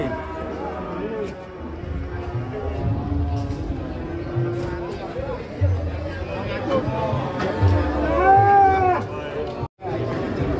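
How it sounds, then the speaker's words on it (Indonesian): Cattle being unloaded from a truck give repeated moos amid a chattering crowd, with people talking nearby throughout and a few louder calls rising near the end. "Nah, sapi ya guys."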